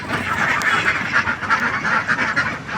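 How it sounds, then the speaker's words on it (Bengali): A flock of ducks quacks loudly and continuously close by, overlapping nasal calls pulsing in an uneven chorus with no voices over them. "হাঁস"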